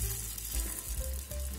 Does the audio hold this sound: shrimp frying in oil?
yes